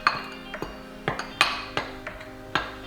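Red pepper seasoning mixed in a bowl, a run of bright clinks and taps as a utensil strikes the bowl in an irregular rhythm, close and without any talk.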